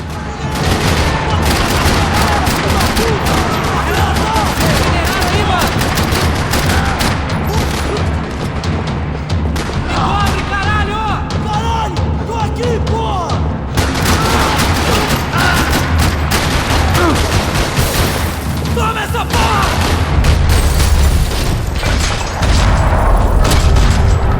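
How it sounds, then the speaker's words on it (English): Constant, loud rattling gunfire in a parking lot in the video game Max Payne 3, dense bursts and booming shots layered with crashes throughout, with occasional voices under the din. "Another parking lot rattling with gunfire."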